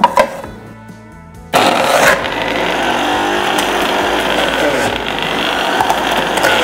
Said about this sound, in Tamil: ஃபஸ்ட்டு வந்து நம்ம தேங்காய் போட்டு அரைச்சிக்கலாம்